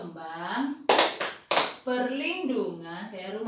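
A group claps through a rhythmic chant, three sharp bursts of handclaps breaking up a stretch of talk, with people speaking before and after the claps.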